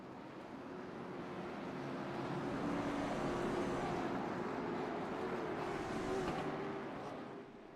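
Late model stock cars in the iRacing sim at virtual Hickory pack up for a restart, a continuous engine drone that swells and rumbles steadily across the clip and fades slightly near the end, no talk.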